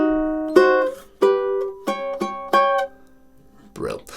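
A ukulele plays two measures of the Nutcracker March, a short run of about six bright plucked notes with some ringing and others cut short, followed by a brief vocal sound at the end.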